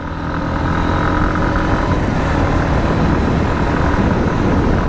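A Hero Xtreme 160R, a 160cc sport motorcycle, roars steadily at full throttle on the move, a loud continuous engine drone mixed with rushing wind across the whole stretch, with no voices.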